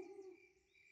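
Cartoon owl hoot, a female owl's answering call: a single soft, low, sustained call that is faint and brief, heard alone.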